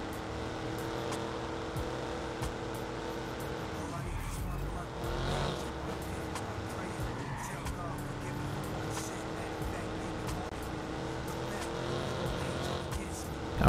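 A family van drives in the video game Watch Dogs, its engine droning steadily throughout at a moderate level, with voices talking over it.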